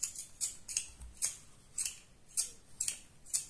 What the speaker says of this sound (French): Tu coupes tous les cheveux.